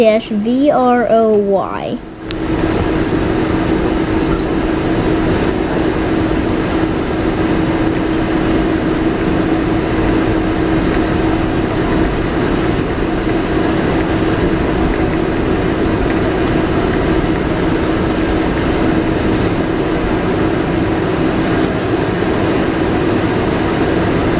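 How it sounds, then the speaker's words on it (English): Virgin Atlantic Boeing 747-400 cabin before takeoff, a loud, steady engine and air-conditioning roar that fills the cabin continuously, with a brief voice right at the start. "our plane is a Virgin Atlantic 747-400 made by Boeing, registration G-VROY"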